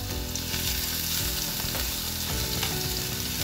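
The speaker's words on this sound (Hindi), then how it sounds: "इसमें हम लहसुन डाल देंगे" Garlic sizzling in a tablespoon of hot oil in a pan crackles and spits continuously and loudly at close range, with faint stirring and no voices.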